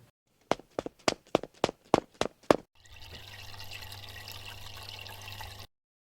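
A tap is turned with a series of sharp clicks or knocks, then water runs in a steady close stream for about three seconds before stopping abruptly.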